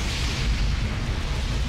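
An explosion in the World War II sniper game Sniper Elite 3: Afrika, a sustained deep rumbling boom that rolls on at steady loudness without a clear onset.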